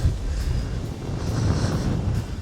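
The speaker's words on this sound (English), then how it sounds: "It is windy." Gusty wind buffets the microphone on a mountain section of the Appalachian Trail on the hike to McAfee Knob, a steady rough rumble filling the whole stretch with no other sound standing out.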